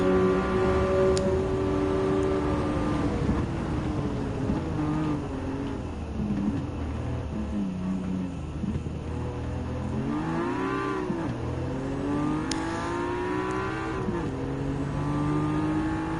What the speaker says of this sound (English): Okay, Jay Suji is going overtake